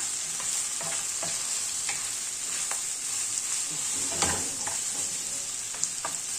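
Sausage and diced onions sizzle in a pan for Egyptian street-style sausage, with a steady hiss and repeated close scraping strokes of a stirring utensil, the loudest scrape near the end, and no talk.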